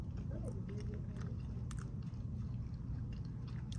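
Someone eats Healthy Choice Simply Steamers meatball marinara, close soft biting and wet chewing with occasional squishy crunches, steady and intimate with no talking.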